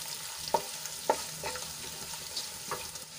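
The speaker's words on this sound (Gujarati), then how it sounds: "એમાં આપણે 1 મોટી ચમચી જેટલા સિંગદાણા લીધા છે ક્રશ કરેલા એ એડ કરી દઈશું. અને થોડાક સાંતળી લઈશું" Crushed peanuts sautéing in a pan with ginger and chilies, an even sizzle broken by several distinct scraping stirs of a spoon, close and without speech.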